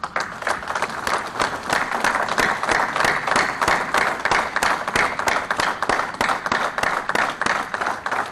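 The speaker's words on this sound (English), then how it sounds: "we can clap for them." Steady applause from an audience at a ceremony in Islamabad, honoring presiding officers of model courts; dense rhythmic clapping that continues evenly throughout at moderate volume.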